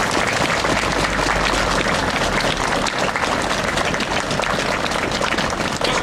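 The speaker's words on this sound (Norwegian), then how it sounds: "Dette skal vi sette pris på, en skikkelig applaus." Steady, dense applause from a crowd gathered for a biathlon homecoming celebration in Stryn, Norway, filling the whole stretch at even loudness with no one talking over it.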